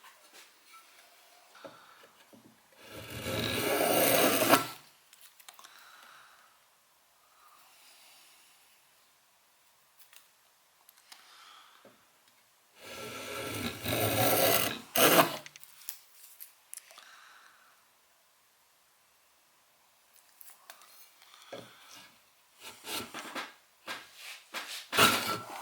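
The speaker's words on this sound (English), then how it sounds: "We will use some sandpaper and this Veritas Honing jig" A block plane blade rubbed on sandpaper in a Veritas honing jig, heard as two sustained bursts of gritty scraping strokes a few seconds long, separated by quieter handling clicks and rustles.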